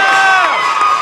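A crowd cheers and shouts for athletes at a live fitness competition qualifier, a loud, continuous wall of voices with high children's-sounding yells.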